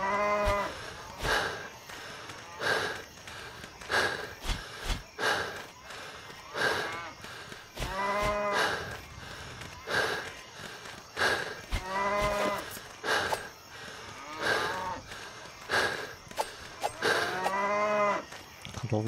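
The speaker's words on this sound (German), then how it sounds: "Ich habe eine Kuh umgenietet." A cow in the video game Valnir Rok moos loudly again and again in drawn-out calls separated by short pauses, with clatter and thumps between them.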